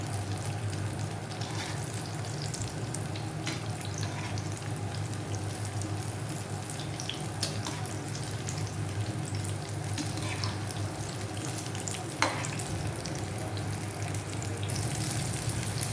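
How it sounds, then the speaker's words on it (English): Gilke bhaji fritters (sponge gourd fritters) deep-frying in hot oil until dark brown, giving off a steady, even sizzle and crackle that runs unbroken throughout with no talking. "We have to cook it till they are dark brown. So we have to fry it more."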